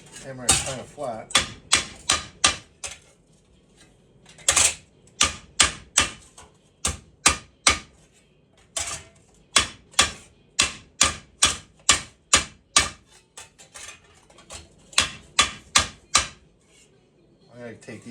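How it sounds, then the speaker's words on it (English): A hammer strikes a Jeep Wrangler floor plate during a floor restoration. The metallic blows come in quick rhythmic bursts of several hits each, separated by short pauses, loud and close, with no voices. "Take your plate, grab the hammer."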